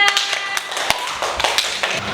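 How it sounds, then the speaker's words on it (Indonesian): Students in a classroom giving a round of applause, a ragged burst of claps with a few sharp louder slaps standing out, close and steady throughout. "Tepuk tangan untuk Mbak Ena."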